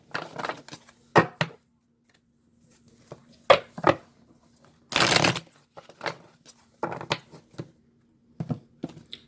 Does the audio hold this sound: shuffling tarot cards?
yes